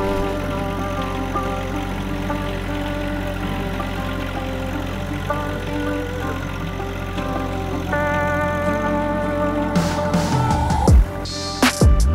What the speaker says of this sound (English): I haven't used a tractor for ages